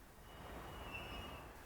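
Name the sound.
tank freight train passing on Swiss main line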